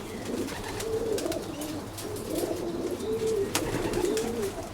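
Racing pigeons cooing softly nearby, repeated low throaty coos in a loose rhythm over a faint background hum.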